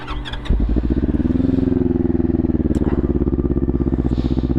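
A Sinnis Terrain 380 motorcycle with a Toro exhaust, baffle removed, starts up after a brief crank and settles into a loud, close, steady single-cylinder idle with a rapid even pulse.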